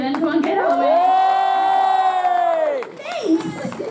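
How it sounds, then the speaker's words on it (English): An audience cheers and whoops at a SunnyCon 2017 convention panel, a loud sustained shout from the crowd that swells, holds for about two seconds, then breaks into scattered voices. "let's have the cheer then"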